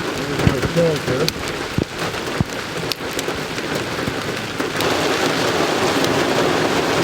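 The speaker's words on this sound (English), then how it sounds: "Now, we're getting a hailstorm. Can you hear it? It's pretty big." Heavy hail pounds steadily on surfaces outdoors in Canada, with sharp impacts early on and a dense, loud roar building toward the end.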